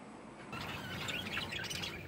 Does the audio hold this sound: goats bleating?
no